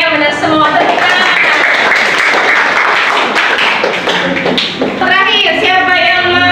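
Classroom applause from students rewarding correct answers in an Islamic cultural history lesson, loud and continuous clapping mixed with children's voices and chatter.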